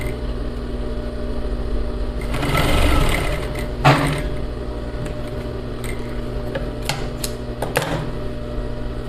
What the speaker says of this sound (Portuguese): Vou juntando aqui.